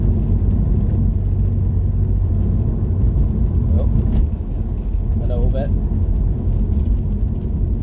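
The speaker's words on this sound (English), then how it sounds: "See, now this puts the car through its paces." A Ford Mondeo Mk3 estate car drives over a rough road, its engine and tyre rumble loud and steady from inside the cabin, with someone briefly speaking over it.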